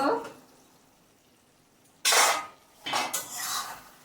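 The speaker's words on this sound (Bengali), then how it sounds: "ঢাকাটা খুলে দেখব" A cooking pot lid lifted off a simmering prawn and potato curry on a gas stove: quiet room hum, then a sharp metallic clatter and a second scraping clink, close and loud.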